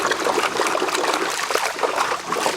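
Water pours steadily and splashes through a gold sluice box fitted with a grizzly at the front, a dense, continuous rushing trickle heard up close with no talk.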